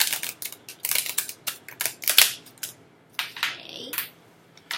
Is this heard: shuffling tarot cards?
yes